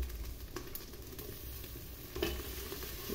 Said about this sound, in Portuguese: agora a gente vai fritar os temperinhos